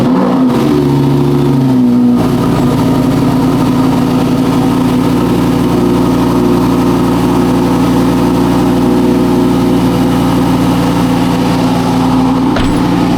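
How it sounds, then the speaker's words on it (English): A Lamborghini engine catches on a cold start and settles into a steady, loud idle, with a brief blip near the start and a low, even drone held close throughout, with no talking. "Very uneventful cold start"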